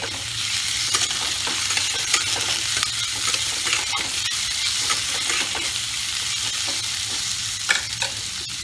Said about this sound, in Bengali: এবার এতে আমি দেব একটা টমেটো কেটে রেখেছিলাম